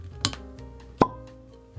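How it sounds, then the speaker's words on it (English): Cork pulled from a bottle of Pappy Van Winkle 20 Year bourbon, giving a couple of short, hollow pops close by with quiet handling noise between them, and no voices. "Very expensive cork pop."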